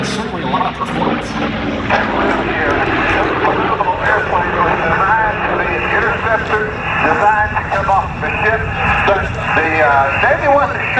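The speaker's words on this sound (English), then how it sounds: "Well, the Corsair's got a lot of power." FG-1D Corsair warplane flying at an air show, a steady loud propeller-engine drone running throughout under constant talk.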